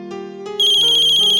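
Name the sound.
phone ringtone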